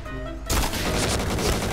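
After a brief lull, a dense burst of rapid gunfire erupts and holds steady and loud through the rest of the moment in the shooter Point Blank.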